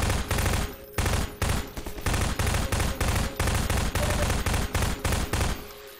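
Rapid bursts of gunfire from the Half-Life 2 video game, a loud run of sharp repeated shots in clusters with brief gaps, steady and close.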